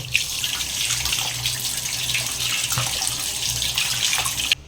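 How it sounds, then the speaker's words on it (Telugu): Rice being washed by hand in water for a prawn biryani, with steady running and splashing water sounds close by throughout, no talking. "ఇంకా ఇప్పుడైతే రైస్ అయితే కడుగుతున్నాను."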